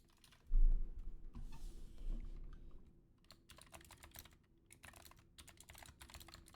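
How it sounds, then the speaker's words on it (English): Computer keyboard typing in bursts of close, quick clicks, quieter and sparse at first and then a denser run of rapid keystrokes, with no one speaking. "You are going to hear clicks always. And typing?"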